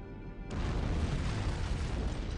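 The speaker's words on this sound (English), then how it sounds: "I'd guess an antimatter charge" A deep, rumbling explosion from an antimatter charge aboard a cruiser in Halo: Combat Evolved erupts suddenly and roars on as a sustained, heavy blast with no voices over it.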